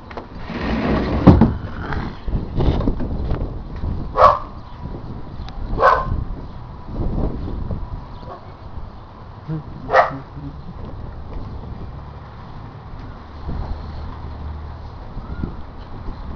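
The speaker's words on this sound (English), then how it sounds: "Who you barking at, Chinta?" A dog barks in a backyard: a few sharp, separate barks spaced several seconds apart over steady outdoor background noise, with little talk.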